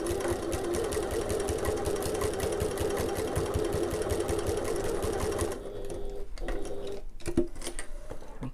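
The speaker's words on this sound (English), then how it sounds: "I'm going to do a little bit of back stitching just to make sure it's nice and secure." A sewing machine back stitches a fabric sling bag, running at a steady close whir for about five and a half seconds before stopping, followed by faint handling clicks.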